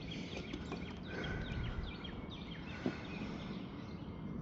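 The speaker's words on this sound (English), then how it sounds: "Oh yeah, I hear birds." Faint chirping bird calls repeat against a steady outdoor rumble, scattered short tweets at a distance with no one speaking.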